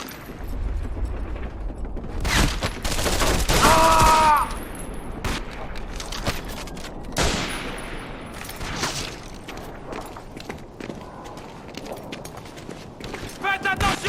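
Gunfire in the Wii video game Medal of Honor: Avant Garde, bursts of shots and rattling mechanisms mixed with shouted voices and battle noise.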